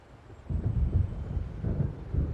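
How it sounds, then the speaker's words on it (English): Rolling thunder from an approaching storm in the video game Alan Wake, a low rumble that swells in several heavy waves over a few seconds, with no voices. "It seems there's a storm coming."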